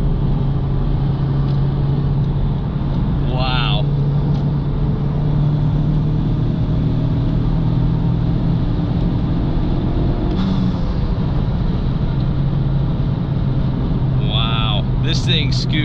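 A 2019 Honda Civic Type R engine droning steadily inside the cabin while driving in fifth gear, a constant low hum and road noise throughout, with someone talking over it.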